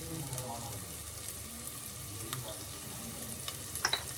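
Onions sizzling in hot oil in a pan for banana stem soup, a soft steady crackle with occasional small pops near the end.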